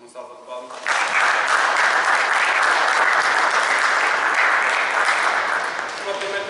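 Audience at a mini-basketball coaching clinic giving a round of applause for an introduced speaker, clapping that starts abruptly and carries on evenly and loudly before tapering slightly.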